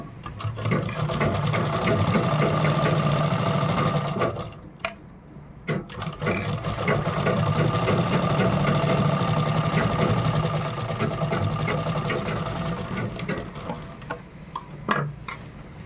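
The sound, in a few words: sewing machine stitching a blouse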